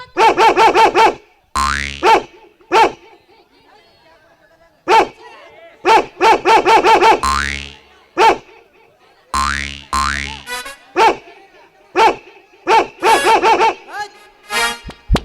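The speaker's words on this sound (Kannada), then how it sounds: "ಯವ್ವ ಯವ್ವ ಯವ್ವ ನಾಯಿ ಬತ್ತ ಯವ್ವ" Loud, close dog barks in quick bursts and yips with whining boings and squeaks, punctuated by gaps and stop-start repeats.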